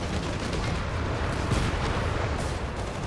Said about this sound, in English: another Stuka barrage coming in